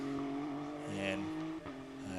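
A GT World Challenge America race car roars through the braking zone into turn 8, its engine note shifting as it slows, heard steadily beneath a commentator's talk.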